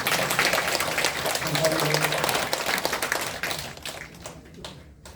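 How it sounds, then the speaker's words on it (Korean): A church congregation at a morning prayer meeting applauds in thanks to an elder, a dense wash of clapping that holds steady and then thins out and fades away, with a voice heard alongside. "우리 장일봉 장로님께 다시 한번 감사의 박수를 드립니다."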